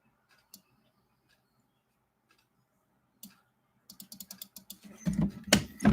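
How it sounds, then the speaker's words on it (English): Computer keyboard keys click sparsely at first, then a quick burst of close typing builds near the end, ending with some louder handling thumps, with no voices. "Get my keyboard out here."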